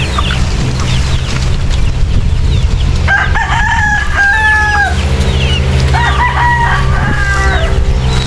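Chickens cluck and a rooster crows loudly and close by, two crowing calls rising over a steady noisy farmyard background with low rumble throughout.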